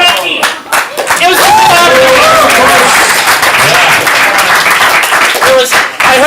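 Enthusiastic audience at a CSz comedy improv showcase clapping loudly and steadily, with scattered high squeals and cheers mixed in, sustained for several seconds.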